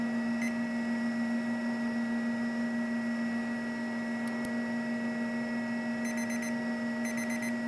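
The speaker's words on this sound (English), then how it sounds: "Once the timer goes off" A lab timer alarm sounds during a spectrophotometric amylase assay, heard as short repeated electronic beeps in quick bursts over a steady background hum, fairly faint and with no talking.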